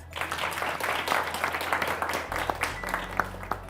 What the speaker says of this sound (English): So let's clap for the ladies.